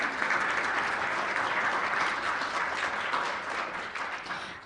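Dense, steady applause from a brunch welcome audience at an asbestos awareness conference, many hands clapping together and holding level before tapering slightly at the end.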